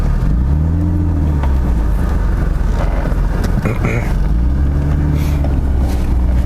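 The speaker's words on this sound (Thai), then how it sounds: "เสียงเครื่องหกสูบพอๆนะครับ" A BMW E36 325i six-cylinder engine rumbles deeply, rising and falling in pitch as it revs a couple of times, with someone talking over it.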